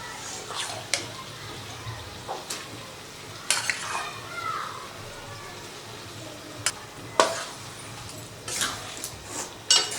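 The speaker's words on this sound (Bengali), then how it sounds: "তো তড়কাটা দিয়ে মশলার সাথে খুব ভালো করে মিক্সড করে নেব" Boiled tarka dal is stirred into masala frying in a pan for dhaba-style egg tarka, with a steady soft sizzle under repeated scraping stirs and occasional sharp spoon clinks against the metal.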